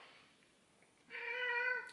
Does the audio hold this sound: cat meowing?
yes